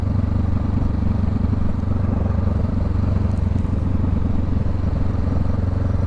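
A small motorcycle runs steadily at close range, its engine droning loud and continuous with a faint rattle, no talking over it.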